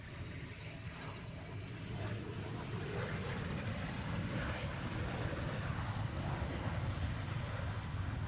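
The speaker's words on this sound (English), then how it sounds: "Reverse thrust is on." Aircraft landing at Luton Airport with reverse thrust engaged, heard as a steady broad rumbling roar throughout, fairly distant and mixed with wind noise on the microphone.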